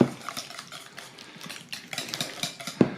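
Cream is whisked into eggs by hand for a crustless egg, bacon, mushroom and cheese pie. A rapid, steady ticking rattle of the whisk against the bowl carries through without pause, with a knock near the end.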